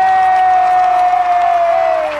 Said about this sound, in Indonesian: Boleh dong teman-teman minta tepuk tangan untuk Rose dan Robby.